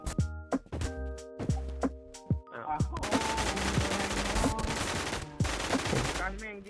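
Rapid gunfire in the zombie survival game Warz: several sharp single shots, then a dense, continuous burst of automatic fire, loud and close, with brief pauses.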